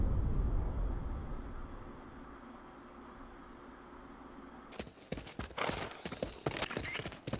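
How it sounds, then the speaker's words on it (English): Horse hooves clip-clop in the Metal Gear Solid: Peace Walker video game, a quick, uneven run of sharp clopping steps that starts partway in after a low rumbling ambience and stays fairly loud and close. "It's always the sound of whatever transportation you're using. I just love, instead of helicopters, hey, a horse this time."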